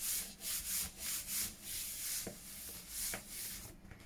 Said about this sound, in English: Give that a good rub while it's still damp, and it'll take those globbers of glue away.